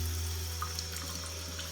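Water from a kitchen sink tap runs steadily over charred Hatch green chile being rinsed, a continuous close splashing flow with no talking.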